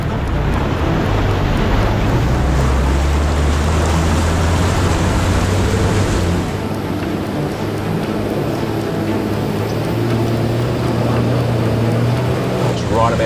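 A 4WD pushes through a fast-flowing river crossing on a deep track, its engine drone steady beneath a constant loud rush of churning water that eases slightly partway through.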